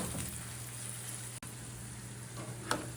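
Soft vegetables for jalapeno cornbread sizzle gently in oil in a pan, a low, steady frying hiss with one brief click and no talking.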